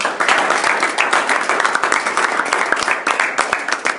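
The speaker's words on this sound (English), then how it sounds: "Would you guys clap up for them?" A crowd claps for Pastor Brandon, Luke and Josh at a church gathering, a loud, close burst of applause with rapid overlapping claps that holds steady throughout.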